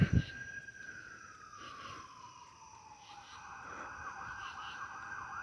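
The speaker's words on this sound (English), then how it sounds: "I wonder if that's an ambulance or a police officer." A siren wails at a distance, its tone sliding down and then holding a high steady pitch over faint background noise, with no talking.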